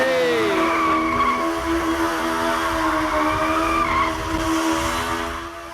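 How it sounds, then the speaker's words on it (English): A stunt motorbike spins in circles with its tyres skidding, a sustained wavering squeal over engine drone that holds for several seconds before easing off, heard fairly close with no voices. "he's volunteered to spin it round the cameraman when he's done his stunts"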